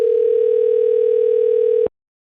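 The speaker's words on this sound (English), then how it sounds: "Pick up the phone, Inky." A loud, steady telephone dial tone hums continuously while someone is being called, then cuts off abruptly after about two seconds.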